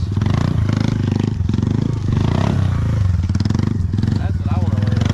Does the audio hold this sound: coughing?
no